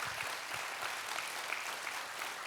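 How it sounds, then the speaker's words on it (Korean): A church congregation at a Wednesday worship service gives a sustained round of encouraging applause, a soft, even patter of many hands throughout. "한번 격려의 박수 한번 드리겠습니다."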